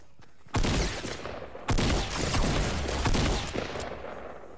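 Loud gunfire bursts in Fortnite, two sharp onsets followed by a rattling volley and trailing decay, with no talking.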